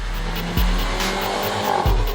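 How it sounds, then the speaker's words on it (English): A Mercedes-Benz GLC Coupe engine revs with a high-pitched growl, rising in two quick bursts against a steady motor drone. "The engine has an energetic note and it gets you excited with its high-pitched growl"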